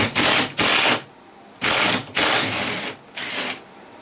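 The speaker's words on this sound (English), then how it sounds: "you can either use a ratchet with a 10mm socket, or just use a high impact gun" Bursts of a pneumatic impact gun or ratchet working a tight 10mm bolt on a 2013 Dodge Dart door, five loud rattling runs separated by brief pauses, close up with no talking.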